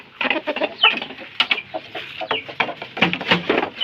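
Slim black Basilan gamecock clucking close at hand, a busy string of short, uneven clucks with some overlapping fowl calls from the pen.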